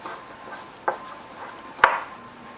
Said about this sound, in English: you're going to use a fork and kind of break it together until it all combines